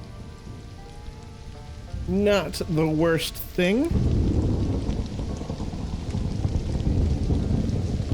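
Heavy rain pours down during a thunderstorm in the jungle of Stranded: Alien Dawn, a loud continuous hiss with a deep rumbling swell, while someone speaks briefly over it partway through.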